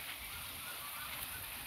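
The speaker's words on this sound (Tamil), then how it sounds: "மயில் சத்தம் கேட்குதா," Peacock calls in a garden in Tirunelveli, a loud, steady honking cry carrying over the whole moment against a noisy outdoor background.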